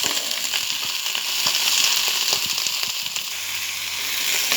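Tomato chutney ingredients with curry leaves and coriander fry in hot oil, giving a loud, steady sizzle with scattered sharp crackles and pops close by, and no voices.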